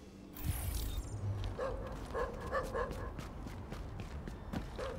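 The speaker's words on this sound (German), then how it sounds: "Warum sind hier so viele Hunde, frage ich mich." Dogs bark in the video game The Division, a few yips and woofs over steady game ambience and footsteps, with no talk heard.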